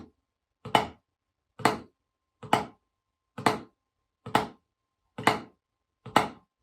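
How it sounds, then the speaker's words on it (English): Seven open flams struck on a snare drum, each a crisp double-hit crack spaced evenly about a second apart, close and alone with silence between strokes. "Where we play the flams nice and big and open"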